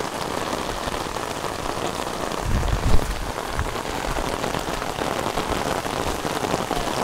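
Heavy rain pours steadily on a surface during flooding in Vietnam, a dense continuous hiss with a brief louder low rumble midway.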